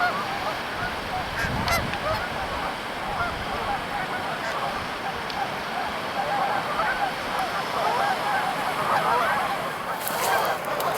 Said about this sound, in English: I think I found a snow goose.